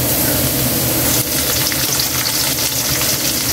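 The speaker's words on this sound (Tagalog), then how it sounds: "nilagay na natin yung bawang natin, sibuyas." Garlic and onion sizzle loudly in hot oil in a pan. The close, dense frying hiss is continuous, with occasional stirring and no voices.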